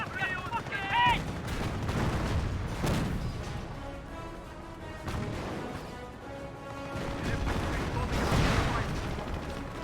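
Gunfire from troops firing out of a house in the strategy game Company of Heroes: steady scattered shots and bursts at moderate distance, mixed with battle noise under a talking voice.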